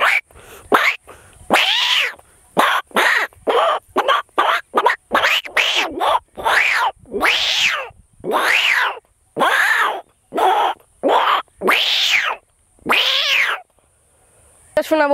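A human voice imitates a mongoose call with a long series of short, sharp, squeaky yelps. They come in quick irregular bursts, close and loud.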